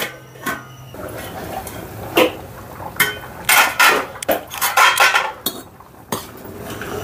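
A metal lid clatters onto a pot of instant khichdi at close range. Sharp clinks and scraping knocks come in an uneven burst, with no one talking.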